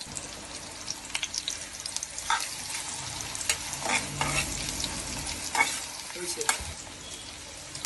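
Chopped onion and sliced dried chillies fry in oil in a pan for a Malabar spinach stir-fry, giving a steady, close sizzle broken by repeated scraping stirs of a utensil against the pan.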